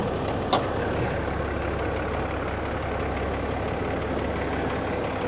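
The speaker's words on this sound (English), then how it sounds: "Love the way that diesel sounds." A truck's diesel engine idles in a steady, even rumble at moderate distance, with one brief click near the start and no voices.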